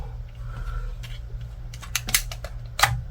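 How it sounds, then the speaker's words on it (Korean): A derringer hammer is cocked and dry-fired, giving a few sharp close metallic clicks and snaps over quiet room hum, with the loudest click near the end. "해머를 코킹해서 한번 공탄으로 한번 써볼게요"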